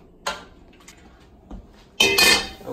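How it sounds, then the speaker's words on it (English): Mushroom chili ingredients are stirred in a pan, with a few sharp clinks and scrapes of a utensil against the pan, brief and spaced, the loudest cluster near the end. "Now we just need to mix all that up, and we're going to saute that."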